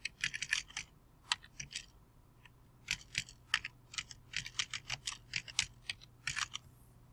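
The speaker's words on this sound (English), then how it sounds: "I'm going to type my name and picture frame" Keys clatter on a computer keyboard as a name is typed, in quick bursts of close, crisp clicks with short pauses between, over a faint steady room hum.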